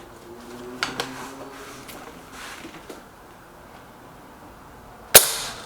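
A single sharp, loud crack from a Lee Enfield Sentry rifle fired at a target comes near the end, after a few faint clicks and handling knocks over quiet background.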